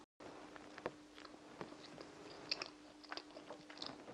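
Crunchy bites and chewing on crispy homemade spanakopita, a Greek spinach and feta pie with flaky pastry, heard up close as irregular crackling crunches over about four seconds with a faint steady hum beneath.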